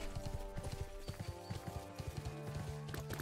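Rhythmic horse hooves clip-clop at a steady trot in the game Bless Online, up close, over a bed of game music tones, with no speech.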